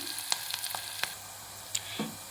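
Brinjal curry frying and being stirred in a pan, a steady low sizzle broken by a few sharp spatula scrapes and clinks, close and fairly quiet with no talking.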